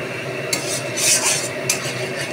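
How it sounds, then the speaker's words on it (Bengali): Spice masala with turmeric, black pepper and salt frying in oil in a pan for chicken bharta: a loud, close, continuous sizzle with a spatula scraping and stirring through it, a few sharper scrapes standing out, and no voices. "এবার এটা ভালোভাবে যতক্ষণ তেল না ছেড়ে দেয় ততক্ষণ আমি ভাজবো।"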